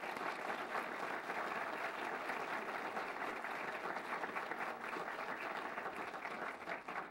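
Sustained applause from a lecture audience welcoming lecturer Rosemary Sands to a last-lecture talk, dense and steady throughout at an even loudness.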